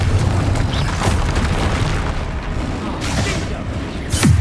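Repeated Confringo spell blasts from the Hogwarts Legacy video game, loud booming explosions layered over a constant dense roar of combat, with sharp bursts near the start, middle and end.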